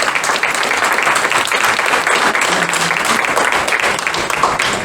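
Continuous applause from an audience of parents and teachers at a school gathering, dense and evenly sustained throughout with no pause, fairly loud and close.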